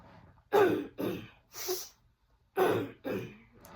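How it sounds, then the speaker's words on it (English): Someone clears their throat several times in quick, rough bursts, close to the microphone, with brief pauses between each harsh rasp. "Sorry for clearing my throat so much."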